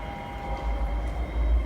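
A train pulls into Tin Shui Wai station in Hong Kong, a close rumble of rolling wheels and carriages with a steady low drone and faint high whine, no voices.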